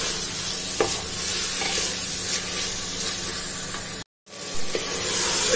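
Tomatoes and green chillies fry in a pan for a ridge gourd sabzi, a dense steady sizzle with stirring scrapes and a few sharp clicks, briefly cutting out to silence before the frying resumes close and loud.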